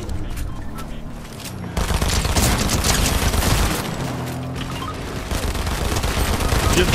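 Dense, continuous gunfire in a Fortnite match, with rapid bursts and heavy booms that stay loud and fill the whole stretch, growing denser about midway.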